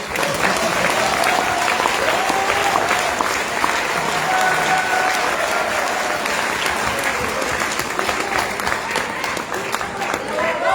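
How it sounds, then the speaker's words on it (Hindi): Audience of several hundred at a seminar in a hotel ballroom clapping, a dense, continuous wash of applause with scattered cheers, steady and loud from start to finish. "जितने लोग ताली बजा रहे हैं"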